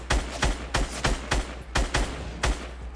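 Gunfire in Fortnite Battle Royale: a steady rhythm of about nine sharp, loud shots fired at even intervals over a low background hum, with no talking.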